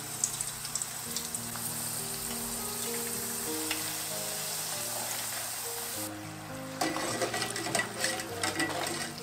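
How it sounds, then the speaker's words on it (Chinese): Starch-coated potato strips deep-frying in hot oil over medium-low heat, a steady dense sizzle and crackle throughout, growing louder and busier near the end, with no talking. "开中小火慢慢炸"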